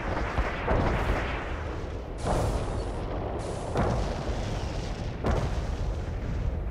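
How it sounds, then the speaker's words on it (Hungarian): Explosions in the video game Renegade X boom repeatedly, loud and close, with heavy rumbling blasts and gunfire-like bursts filling the whole stretch. "Hát valamit robbantottak."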